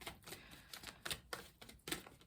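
Tarot cards shuffled by hand in a series of quick, crisp riffling bursts, closely recorded, with short pauses between them and no talk.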